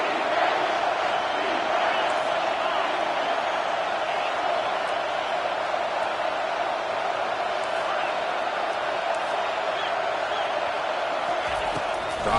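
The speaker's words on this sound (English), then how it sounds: "Third down, and the crowd really getting into it." Football stadium crowd on a third-down play: a dense, steady roar of many voices cheering throughout, broad and sustained with no clear breaks.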